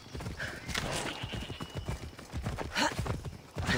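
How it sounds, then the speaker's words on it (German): Horse galloping in Assassin's Creed Odyssey, with steady rapid hoofbeat clip-clop throughout and a brief whinny, loud and close in the game mix. "Pferdchen macht Galopp."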